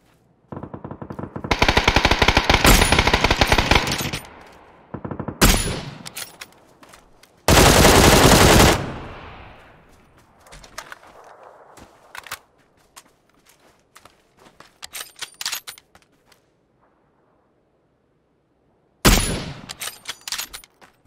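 Loud automatic gunfire in several long, rapid bursts: one around the start, a short one after, another heavy burst, then a final burst near the end, separated by quieter gaps with scattered clicks and no talking.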